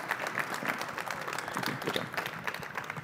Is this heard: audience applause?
yes